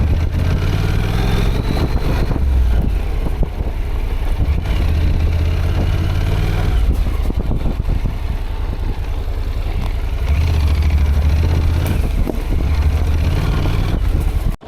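A motorbike engine drones continuously up close in a forest, a low rumbling idle with a few revs, mixed with wind buffeting the microphone.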